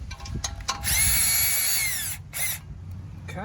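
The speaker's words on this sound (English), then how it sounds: "And sometimes you just need to twist this around to get your drill in there." A power drill backs an acorn nut off a bolt on a Homecrest sling patio chair. One loud, close whir lasts about a second, then a short second burst follows amid faint handling clatter.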